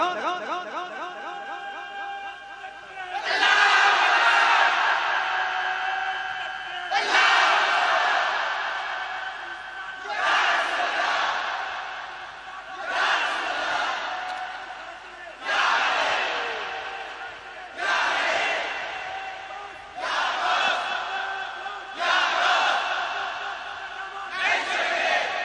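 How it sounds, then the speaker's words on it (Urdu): A large crowd shouts a religious slogan in unison in response to a leader's call, about eight loud chanted bursts in a steady call-and-response rhythm, separated by short gaps. "یہ میرا بھائی نعرہ لگائے گا"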